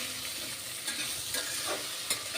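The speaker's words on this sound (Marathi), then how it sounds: "कांदा लसूण पावडर मसाले यामध्ये टाकल्यानंतर आपल्याला व्यवस्थित हे परतून घ्यायचं आहे" Vegetables sautéing in a pan with onion-garlic powder and spices, a faint soft sizzle with a few light stirring scrapes, close and brief.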